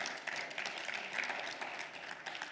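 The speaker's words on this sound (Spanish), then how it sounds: "Démosle un fuerte aplauso al Señor." A church congregation claps together during a Spanish-language worship service, a dense, continuous wash of applause heard from within the room for a few seconds with no speech over it.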